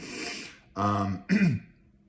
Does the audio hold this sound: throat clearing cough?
yes